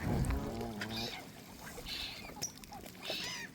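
Ducks quack in a few short, nasal bursts at moderate distance over soft outdoor background noise, with swans nearby.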